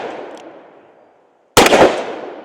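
Smith and Wesson 686 Mountain Gun revolver fired at a target, one loud sharp close shot with a ringing decay after a fading earlier report.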